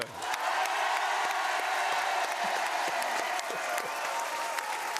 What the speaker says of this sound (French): Je voudrais qu'on applaudisse très fort la famille Arlette Gruss.